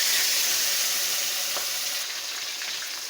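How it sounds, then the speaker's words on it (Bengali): Fish pieces rubbed with salt and turmeric fry in hot oil for a mustard fish curry, giving a loud, even, close hiss and sizzle that eases slightly toward the end. "মাছগুলো দিয়ে দেবো, ভেজে নেব।"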